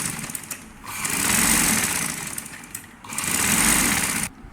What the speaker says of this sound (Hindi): इस तरह से इलास्टिक वाली सिलाई कंप्लीट अपनी करूँगी